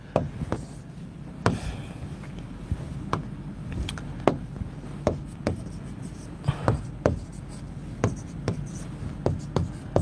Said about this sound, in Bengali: দেখো সুন্দর মতো লিখি আমরা।